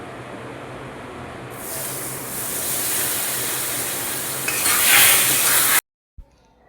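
Steady sizzling and scraping from a pan as a chocolate sukhdi mixture is stirred with added milk over a gas flame, growing louder and brighter before cutting off abruptly, followed by a faint clink.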